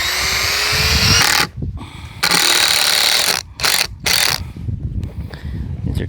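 A power drill drives 2.5 inch screws into a wooden concrete form, loud whirring bursts that cut off and restart several times, with brief pauses between runs.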